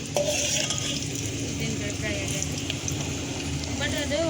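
Food frying in a pan as eggplant curry is cooked at home, a continuous soft sizzle with occasional utensil clinks and stirring, faint and steady under intermittent background talk.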